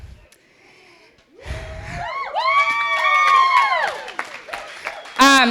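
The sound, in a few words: wedding guests cheering during maid of honor speech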